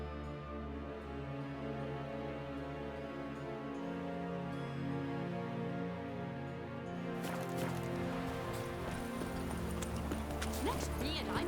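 Horse hooves clip-clopping at a steady gait in The Witcher 3, looping game music and ambience throughout, with a denser burst of galloping movement near the end.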